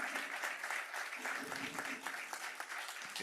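Applause from a conference audience at a summit honoring a lifetime achievement award recipient, a continuous even patter of many hands clapping, fairly faint and distant throughout.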